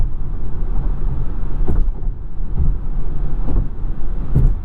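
A 2021 Polestar 2 cruising at 70 mph on the highway, heard from the cabin as a steady low road and tire rumble with occasional soft thumps from road imperfections, no talking.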